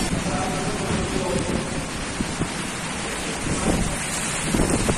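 A strong tropical storm in Davao City roars with heavy rain and thunder, a dense, continuous wash of downpour and low rumbling under gusting wind buffeting the microphone, loud and close throughout.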